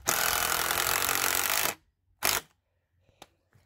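A power drill drives 2.5-inch decking screws into a wooden garden vegetable bed, whirring loudly and steadily for nearly two seconds, then giving one short burst, followed by faint clicks and handling noises.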